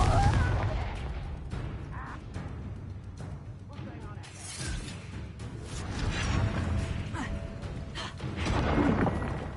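Fiery Confringo spell blasts crack and burst during combat in Hogwarts Legacy, several booming hits layered over game noise and dense effects, with a voice talking throughout.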